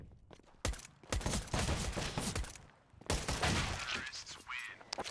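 Rapid bursts of pistol and rifle gunfire in a Counter-Strike match on Dust2, dense cracking volleys with brief gaps, mixed under low commentary talk.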